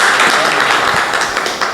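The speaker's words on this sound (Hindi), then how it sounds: "तालियों से एक बार हौसला बनाइए।" Audience applause at a Hindi kavi sammelan poetry recital, a dense, steady wash of clapping that carries loudly through the whole short stretch with no speech over it.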